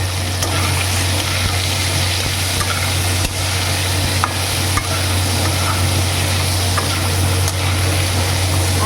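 Potatoes fry with turmeric in a hot pan, giving a steady, close sizzle with soft stirring scrapes that runs continuously without a break.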